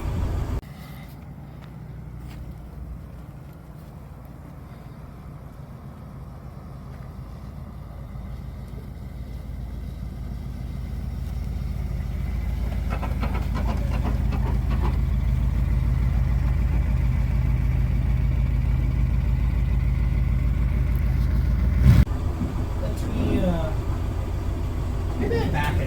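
Engine of a 1965 Dodge van that had sat for years, running as it drives without working brakes: a low steady rumble that swells gradually, with a brief clunk near the end.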